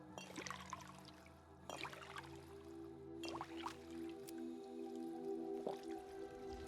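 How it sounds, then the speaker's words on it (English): Water is drunk in Fallout 4, with soft wet sips and gulping under a steady game ambience and faint musical drone, repeating in a few short bursts. "Drink some water."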